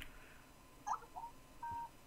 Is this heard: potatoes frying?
no